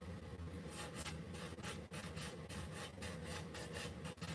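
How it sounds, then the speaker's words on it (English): Steady, continuous rasping of sandpaper rubbed back and forth over painted wood, close and fairly quiet, with a regular stroking rhythm and no speech. "because if I sand this wood"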